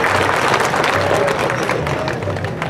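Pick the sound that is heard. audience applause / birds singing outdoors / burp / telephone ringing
audience applause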